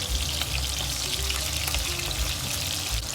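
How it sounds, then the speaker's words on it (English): Ribs fry in a pan with green onion, ginger and garlic, giving a dense, steady sizzle that carries on close and unbroken with light stirring noises. "Next, fry the ribs."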